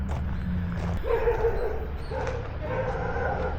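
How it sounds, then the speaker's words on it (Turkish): Several dogs barking and yipping near old, derelict buildings in the Soviet-era town of Tskaltubo, with repeated sharp barks and whimpers at moderate distance over background noise. "Köpekler."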